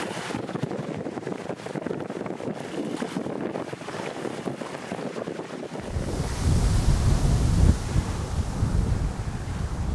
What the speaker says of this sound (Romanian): Ce bate vântul!